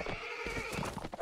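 A brief horse whinny mixed with hoofbeats as cavalry charges in a real-time strategy match, loud and close, packed together with other battle sounds.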